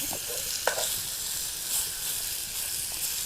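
Steak frying in a pan over an open campfire, a steady loud sizzle and hiss with a few brief pops and crackles, close and continuous.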